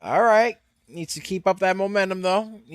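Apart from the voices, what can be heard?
No distinct noise like a dog, phone or traffic.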